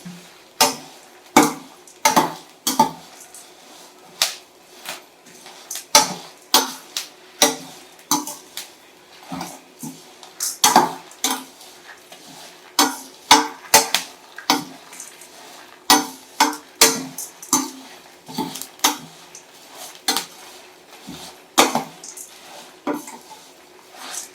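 Lentils and curry leaves roasting in a pan are stirred steadily, the spoon scraping and knocking against the metal in sharp repeated strokes over a faint background sizzle.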